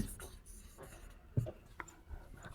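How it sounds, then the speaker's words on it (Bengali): A pen scratching on paper, quiet short strokes and scrapes with a couple of small taps, under faint nearby talk. "আমরা এটা নিচে লিখি"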